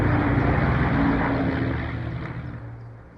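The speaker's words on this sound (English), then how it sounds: "a new sound shattered the silence. The roar of engines, far too close and impossibly loud for the empty tarmac outside." Loud, continuous roar of aircraft engines close by on a tarmac, a dense low rumble with broad hiss that holds steady and then slowly fades, with no voices over it.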